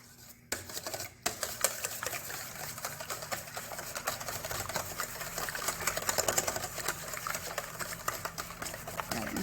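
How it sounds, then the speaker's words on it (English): Eggs whisked in a bowl with a whisk, a fast, continuous clattering and tapping that stays fairly quiet and grows busier as it goes, with no talking. "we just want to take a whisk and whisk those up"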